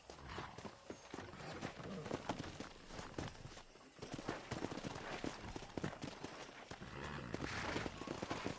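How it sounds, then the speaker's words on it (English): Horses in Red Dead Redemption, wrangled by a rider: steady hoof clip-clops at a walking-to-running pace, close and busy, with occasional whinnies and voices talking throughout. "Let's see if we can't wrangle some horses."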